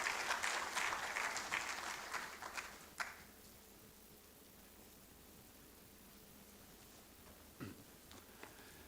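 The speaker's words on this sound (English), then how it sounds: "Please, a round of applause as he comes." A burst of applause from a conference opening ceremony audience that quickly fades away, leaving quiet room tone with a few faint claps and shuffles afterward.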